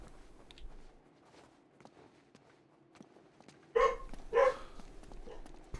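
Two or three distant dog barks ring out suddenly after quiet stretches of faint ticking and footstep-like taps, in the video game Uncharted 2: Among Thieves.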